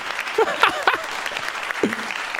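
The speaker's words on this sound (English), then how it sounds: "That is my favourite applause." Applause on a comedy podcast, a slow, awkward build-up of scattered claps rising into a fuller burst, with faint voices or whoops mixed in, heard alone at moderate loudness.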